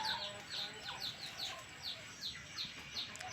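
Several two-to-three-month-old Burmese gamecock chicks cluck and chirp in quick, repeated calls nearby, overlapping one another against a low background hum.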